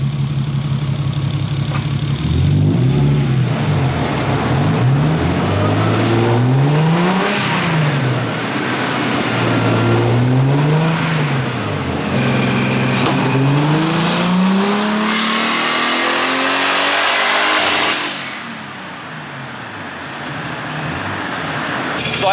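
A built, turbocharged BMW E36 engine runs on a dyno, revving repeatedly in rising and falling sweeps before a long climbing pull that cuts off abruptly, loud and close.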